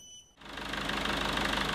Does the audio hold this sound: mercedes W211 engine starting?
yes